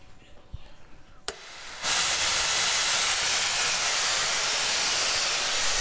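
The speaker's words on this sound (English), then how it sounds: "Now have a look at this. Watch this steam." A steam iron releases a sudden loud burst of steam that settles into a sustained, strong hiss, preceded by a brief click and quieter handling noises.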